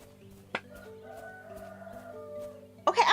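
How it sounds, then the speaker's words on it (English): A rooster in the indie video game Of The Lilies clucks and crows faintly over a low game background drone, ending in a louder squawking burst. "Okay, I'm gonna beat down that rooster if you don't shut up."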